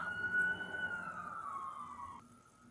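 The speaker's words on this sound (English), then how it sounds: "Oh, beautiful sirens. Beautiful, beautiful sirens." A single emergency vehicle siren wails at moderate distance, one steady tone sliding gently downward before dropping abruptly near the end, with no voices.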